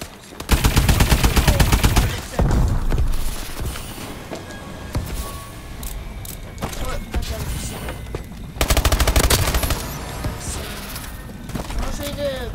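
Automatic gunfire from Call of Duty: Advanced Warfare rattles in rapid, loud bursts, with long strings of shots early on and again later, spread over in-game noise and clatter.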